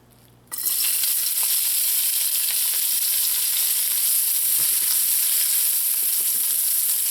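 Chopped onions hit hot oil in a pot for a baked turkey with rice stuffing, starting with a sudden loud sizzle that holds as a steady, close frying hiss.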